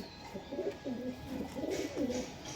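Several high-flying pigeons, including closed-tail birds kept for sale, give soft, rolling coos in a steady repeating rhythm, close by and alone.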